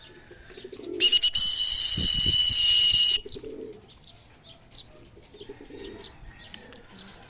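Racing pigeons returning to their home loft, wings flapping loudly in a burst for about two seconds, with soft cooing and chirps around it, close by and outdoors.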